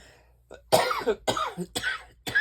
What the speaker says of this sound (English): I'm still coughing